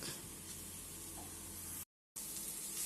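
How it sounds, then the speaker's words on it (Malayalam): Grated coconut and prawns being stirred in a hot pan, giving a steady broadband sizzle with a brief gap of silence near the end before the frying hiss resumes. "തേങ്ങയും ചെമ്മീനും എല്ലാം ഇട്ട് നല്ലതുപോലെ മിക്സ് ചെയ്തിട്ടുണ്ട്."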